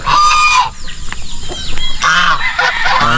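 Farm chickens on a smallholding clucking and squawking loudly nearby, a cluster of overlapping calls and cackles in quick succession.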